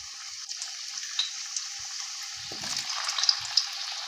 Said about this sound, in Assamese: মই প্ৰথমতে আলু কেইপিচ ভাজি ল'ম